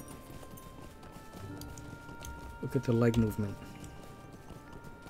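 A horse mount in The Lord of the Rings Online clip-clops along with a steady rhythm of hoof falls, faint and close, while someone speaks over it.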